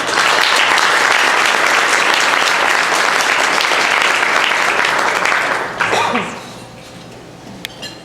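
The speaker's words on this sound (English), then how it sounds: "Please have a big round of applause for all of our" Audience applause at a Schenectady BPW women's rights event, broad and steady for several seconds, then tapering into scattered claps and fading near the end.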